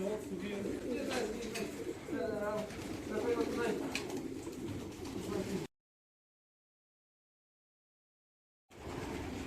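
Racing pigeons coo softly in a steady murmur in an aviary beneath someone talking, with a few chirps mixed in; the sound cuts out to silence before resuming briefly.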